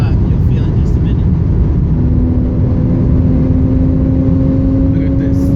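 A Porsche race car accelerates hard, its engine roaring loud and close from inside the cabin with a rising tone and steady rumble, while people talk over it.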